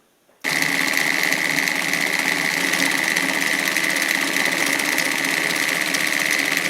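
An antique Singer 319W sewing machine running decorative stitches, starting abruptly and then holding a loud, steady, rapid mechanical whir and clatter close up, with no talk.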